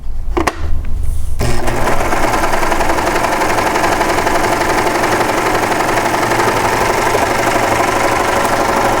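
A serger sewing machine with automatic thread delivery runs a narrow stitch, giving a loud, steady mechanical whir with a fast, even rattle after a brief start. It continues without pause, and no one speaks.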